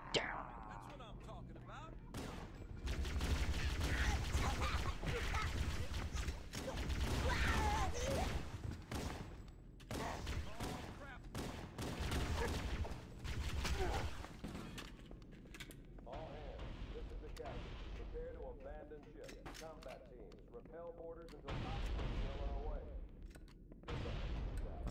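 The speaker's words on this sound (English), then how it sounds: "Oh, they're shooting at the escape pods." Video game battle with gunfire aimed at escape pods: heavy, rumbling bursts of shooting and mechanical clanks that swell and fade over about twenty-five seconds, loud and continuous, with speech faintly mixed in.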